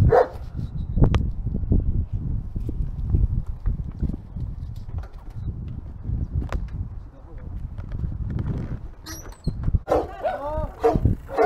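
Dog barking during an urban downhill bike ride, a few sharp barks near the end over wind rumble and movement noise, with people's voices briefly audible.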